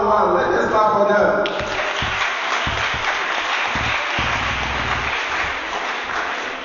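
An audience at a primary-school French quiz final in Ghana applauds in a broad, continuous wash of clapping. Voices speak over the opening moments, and the clapping then carries on steadily on its own.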